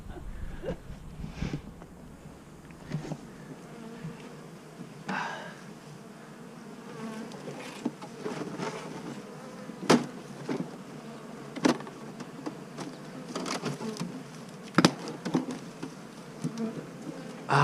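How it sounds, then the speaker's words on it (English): A swarm of honeybees buzzes around a tree, a soft steady drone of many insects with individual bees zipping close past now and then, plus scattered rustles and knocks. "This is the most docile and gentle the bees will be when they're swarming."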